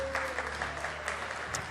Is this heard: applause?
yes